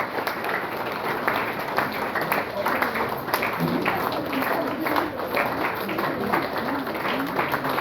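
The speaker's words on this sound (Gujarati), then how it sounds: "તાળીનો અવાજ જોરદાર" Sustained applause fills a crowded gathering in Rajkot, steady dense clapping from many people with a voice speaking over it.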